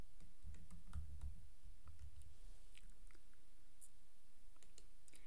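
Fingers type on a computer keyboard in a quiet room, producing faint, irregular clicks and taps in quick bursts with short pauses, close to the microphone and with no voices.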